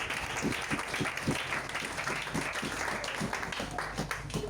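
A church congregation applauds together during a worship service, a dense, sustained patter of many hands clapping at moderate volume in a large room.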